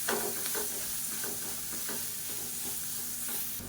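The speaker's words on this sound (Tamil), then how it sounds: "தேங்காய் கொத்தமல்லி பேஸ்ட்டு சேர்த்துட்டு நல்லா ஒரு 2 பரட்டு பரட்டி விட்டுக்கலாம்." Coconut coriander paste is stir-fried in a pan, with a steady soft sizzle and a few light scraping stirs, close and fairly quiet, with no voices.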